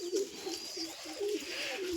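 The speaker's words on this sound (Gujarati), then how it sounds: "અહીં છે આપણા કબૂતર।" Pet pigeons coo in low, rolling phrases that repeat steadily in a soft rhythm, fairly close, over a faint airy background.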